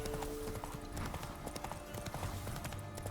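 Horse hooves clip-clop steadily while riding in The Witcher 3: Wild Hunt, a continuous close rhythmic clatter with a brief whinny, under a busy game soundscape.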